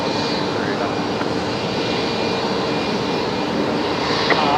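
A Nauru Airlines jet taxis at Brisbane Airport at night, its engine a loud, steady broadband roar with a high whine, heard close and unbroken with no other sounds over it.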